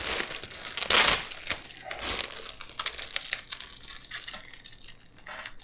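A plastic bag pulled from a camcorder box during an unboxing crinkles and crumples close up, with a sharp loud burst early on, then irregular softer rustling.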